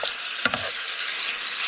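Chicken frying in a pan for a creamy honey and tomato dish, stirred with a slotted spoon: a steady broad sizzle with a couple of brief scraping stirs near the start, no talk.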